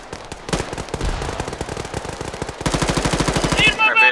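Sustained automatic gunfire in the military game ArmA 3, rapid rhythmic bursts that grow denser and louder toward the end, with a brief voice audible among the shots.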